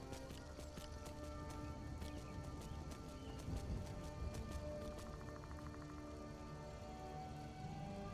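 A horse's hooves clip-clop in a steady trotting rhythm in Skyrim, an open-world fantasy video game, against a constant ambient bed of wind or rain, heard alone and at moderate distance.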